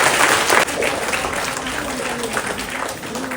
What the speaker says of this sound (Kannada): ಜೋರಾದ ಚಪ್ಪಾಳೆಯಿಂದ ಸ್ವಾಗತಿಸೋಣ